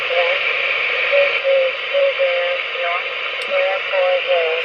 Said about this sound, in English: That's Shannon Volmet on